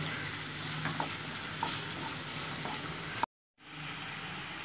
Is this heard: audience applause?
no